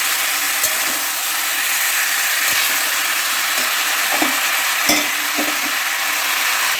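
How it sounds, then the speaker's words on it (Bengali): Potatoes and vegetables for a katla fish curry with bottle gourd stems and ridge gourd fry in a pan, with a loud, continuous hiss and sizzle and scattered scrapes of stirring. "একটু কষিয়ে নিয়ে আমি পরিমাণ মতো জল একটু দিয়ে দেবো"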